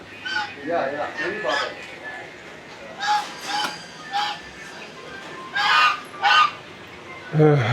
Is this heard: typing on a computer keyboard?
no